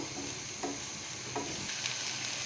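Patty filling for bakery-style patties stirred and fried in a pan, a steady close sizzle with a couple of soft scraping strokes of the spoon, no talking.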